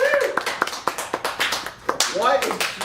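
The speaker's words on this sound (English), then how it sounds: "Why are you clapping like a fucking fat old Italian grandmother?" One person claps hands in a studio, a ragged run of sharp slaps at uneven intervals, with people talking over and between the claps.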